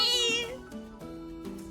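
A cat gives a clear, close meow with a rising then falling tone, followed by a couple of shorter, quieter mews, heard alone with no talking over it.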